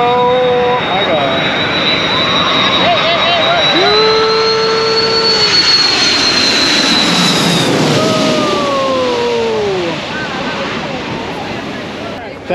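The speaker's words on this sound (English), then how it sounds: "We just had totally a huge crazy plane just fly over us." A huge low-flying plane roars overhead at the St. Maarten waterfront, a loud jet rumble that swells and sweeps past over roughly ten seconds before easing off, with excited voices talking over it and surf in the background.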